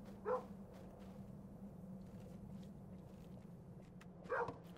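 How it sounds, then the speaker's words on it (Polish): A dog barks in the game Kingdom Two Crowns, two single barks about four seconds apart, moderately near, over a low steady ambient hum. "Co szczekasz z prawej?"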